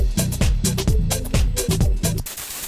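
A full song mix run through an API channel strip plugin, with punchy repeated kick and bass hits under dense bright instrumentation, steady and loud until it cuts off near the end.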